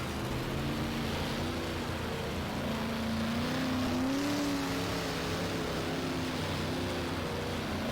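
A simulated big-block race car engine in the rFactor racing game, at Lawrenceburg, drones steadily, rising and falling in pitch as it revs through the gears, with no voices.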